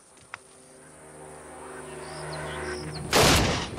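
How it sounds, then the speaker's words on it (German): A single sharp, loud 12-gauge shotgun blast near the end, fired outdoors at a target about 30 metres away, following a quiet stretch with faint background hum and a small click. "Wir schießen mit einer Schrotflinte aus einer Entfernung von ca. 30 Metern."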